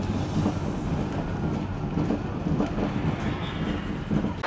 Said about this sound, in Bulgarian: Сега е време да си хванем обратно влакчето.